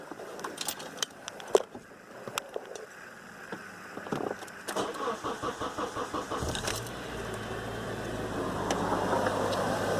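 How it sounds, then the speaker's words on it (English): A car engine cranks with rapid rhythmic pulses, then catches and settles into a steady idle, heard close after some earlier clicks and handling noises. "Start the car."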